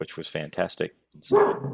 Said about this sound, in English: No, that's my phone ringing and the dog barking.